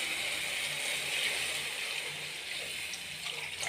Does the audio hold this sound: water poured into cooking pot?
yes